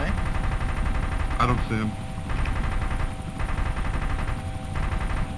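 Rapid machine-gun fire from a helicopter in Arma 2: DayZ Mod, a continuous rattling stream over a steady rotor and engine drone, with someone speaking briefly over it.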